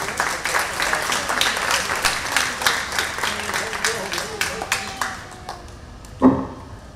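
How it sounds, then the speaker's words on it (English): An audience at a junior livestock show claps for the young exhibitors, a moderate scattering of hand claps that thins out toward the end, closing with a single sharp knock. "Let's give those young kids a nice round of applause"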